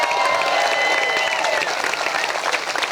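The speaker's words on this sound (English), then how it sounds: "Can y'all clap it up for them?" Crowd at an outdoor statue unveiling ceremony applauding loudly and continuously, dense clapping mixed with cheers and a few whistles, close and full, with some voices in the crowd.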